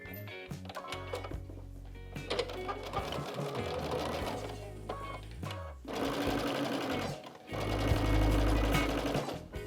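A sewing machine stitches two rows of quilt blocks together in quick, rattling bursts, with short pauses between runs as the fabric is repositioned, close and clear.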